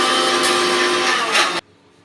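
A mixer grinder powdering puffed rice and lentils whirs loudly and steadily at high speed for about a second and a half, then cuts off abruptly into near silence.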